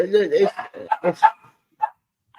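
Several dogs bark in short, sharp bursts close by inside a home while someone talks over them during a phone call; a final lone bark follows after a pause.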